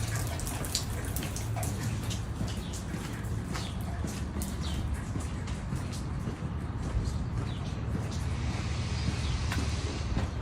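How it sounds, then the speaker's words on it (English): Steady rain pattering continuously with scattered droplet taps, a dense even hiss throughout with no voices. "Dealing with the rain."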